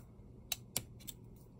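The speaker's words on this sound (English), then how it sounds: "You will also need a pair of cutters, and I'm going to cut this 10 inch piece in half now" Cutters snip a 10-inch piece of earring wire in half: two sharp, close clicks about a quarter second apart, then a fainter third click, with no talking.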